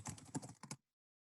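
A short burst of quick keyboard typing, several rapid key taps close by, then silence.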